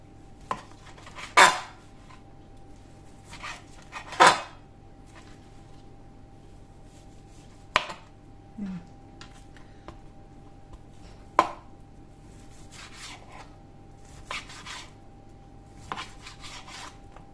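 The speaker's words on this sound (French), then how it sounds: "Et je vais couper ma viande." A knife cuts through partially cooked meat from an air fryer during budget batch cooking, giving sparse sharp clinks and scrapes against a plate or board, several distinct strikes spread over a quiet kitchen background.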